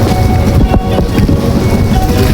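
Southerly wind on the Pacific fishing grounds far off Baler, Aurora, buffeting a boat and its microphone in loud, gusty bursts over a constant rushing roar.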